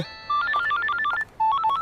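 An electronic telephone rings in a rapid warbling trill, two bursts of quick alternating tones separated by a brief gap, loud and close with no talk over it.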